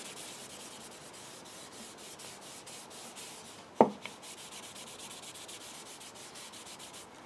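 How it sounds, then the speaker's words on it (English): A rag rubs excess beeswax off a carved end-grain wooden bowl in steady rhythmic strokes, a soft close-up swishing broken by one sharp knock near the middle, with no voices. "And really all this is doing is just removing that sort of top layer of beeswax"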